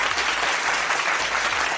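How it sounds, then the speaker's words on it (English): Recorded applause played back during a Geoguessr game session, a dense, steady clapping crowd sound, loud and continuous throughout. "Don't know why I'm playing clapping music for him."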